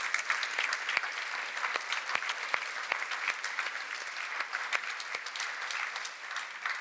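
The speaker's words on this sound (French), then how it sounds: "je voudrais que vous les applaudissiez" An audience applauds a women's orchestra at an awards ceremony, with steady, dense clapping that carries on without a break throughout and stays moderately soft and somewhat distant.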